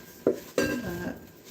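Dishes and cutlery clatter in a kitchen sink during washing up, two sharp clinks followed by a ringing, rattling scrape of pots and utensils, close and fairly loud with no talk.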